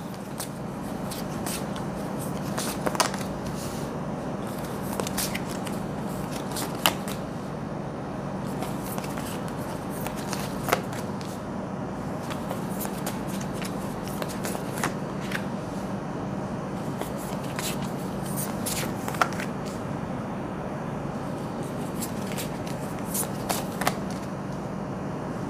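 Mermaid Tarot cards being shuffled by hand, a steady papery riffling with sharper snaps now and then, close and moderately loud with no talking throughout.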